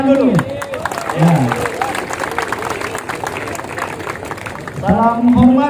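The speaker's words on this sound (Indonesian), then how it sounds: "Tepuk tangan dulu" Applause and clapping from a large crowd of students at a ceremonial procession event before the South Sulawesi governor, a steady wash of claps under a voice speaking at the start and end.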